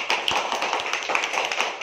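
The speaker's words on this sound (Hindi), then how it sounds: "वेरी गुड टे ताली दे दियो" Several children clap hands together in a rapid, slightly uneven run of close claps lasting a couple of seconds.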